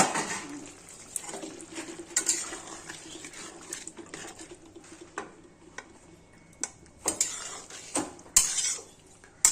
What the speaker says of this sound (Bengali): ঢাকাটা তুলে দেখাচ্ছি